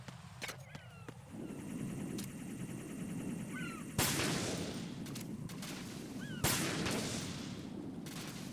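An armed guard opens fire in Metal Gear Solid 2: Sons of Liberty: two sharp, loud gunshots stand out a few seconds apart over a dense rumbling game background, with lighter clicks and effects between them.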